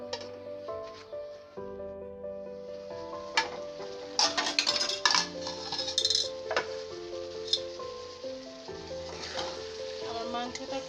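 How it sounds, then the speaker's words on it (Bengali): Beef braising as kosha in a pan over low heat, with a soft steady sizzle and occasional stirring scrapes and clinks under continuous background music. "মাংসটা কষানো হইতেছে,"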